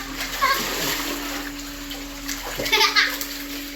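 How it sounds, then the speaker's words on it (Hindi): A person does a backflip into water and lands with a loud splash, followed by sloshing and spattering. Voices chatter in the background over steady outdoor water noise. "मैं आपको दिखाऊंगा बैक फ्लिप कैसे मारे पानी के अंदर"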